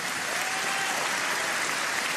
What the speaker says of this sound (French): Oui, applaudissez-la.